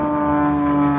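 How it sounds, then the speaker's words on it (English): A propeller airplane passes overhead with a loud, steady engine drone and strong harmonic hum that holds evenly throughout, heard near a bus being converted into a home. "Boss, the plane!"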